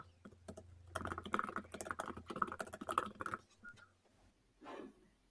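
Rapid typing on a computer keyboard, a close, quiet patter of many uneven keystrokes that thins out toward the end, followed by a final separate press after a short pause.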